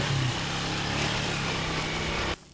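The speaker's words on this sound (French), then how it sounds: "Nous empruntons une fois encore notre moto." A small motorcycle engine drones steadily at close range on a rough shortcut road, a constant buzzing hum that cuts off abruptly just before the end.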